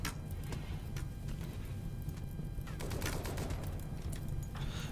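Gunfire in the video game RimWorld: scattered small crackling shots and short fusillades, fairly faint over a constant low rumble, with no voices.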